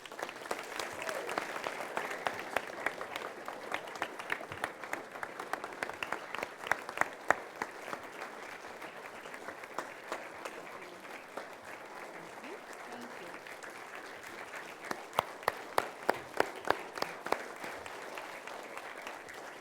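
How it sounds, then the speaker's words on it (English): A small audience at a youth Christmas play gives the director a round of applause, crisp individual claps rising and falling in bursts while people talk over it. "we'll give you a round of applause"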